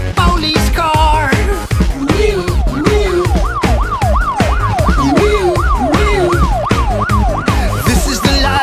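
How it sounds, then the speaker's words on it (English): A police car siren wails in repeated rising and falling sweeps over a bouncy children's song, loud and steady throughout. "A day in the life of a police car."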